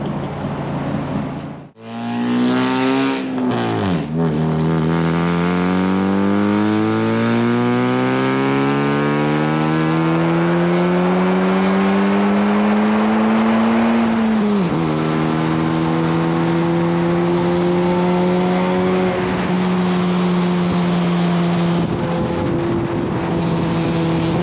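A Honda Civic revs hard through a loud new exhaust with a leaking flange, giving a close, raspy engine roar that rises in pitch, dips briefly, then climbs and holds a sustained drone for over twenty seconds.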